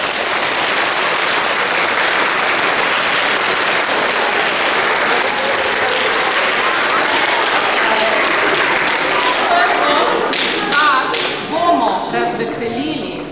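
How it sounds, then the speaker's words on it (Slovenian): Big, dense applause from a large audience for a visiting pensioners' men's choir at a school performance, continuous and loud for most of the stretch before thinning into scattered claps at the end. "In prav je, da jih nagradimo z enim velikim aplavzom."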